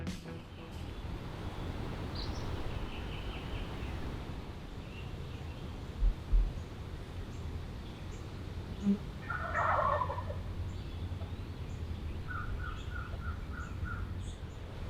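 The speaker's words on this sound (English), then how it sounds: "Schaefer and his cameraman Corey jump right into the gobbles." Faint, distant wild turkey gobbles from toms echo over a quiet outdoor Kansas background, with a few small bird chirps scattered through.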